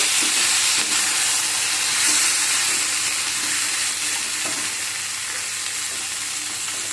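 An eggplant mixture with tomato and onion fries in a pan for baingan bharta, a steady loud sizzle with faint scraping stirs running through it, no voices.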